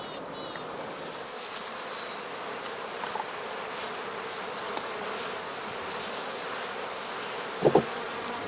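A steady, dense buzzing of many honey bees at a skep hive fills the air continuously, with a brief low knock near the end.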